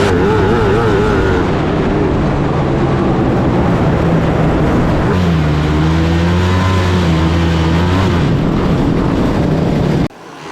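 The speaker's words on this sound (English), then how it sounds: "Victory donut there for the 29 machine of Parker Mockridge, your 250 feature winner" Number 29 race car in the 250 class spinning a victory donut at a Red Bluff race, its engine roaring loudly and steadily with revs surging and falling midway before the sound cuts off abruptly.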